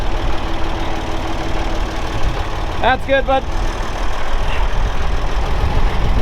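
A tractor engine idles in a steady, rumbling drone close by in a shop setting, with someone speaking briefly over it.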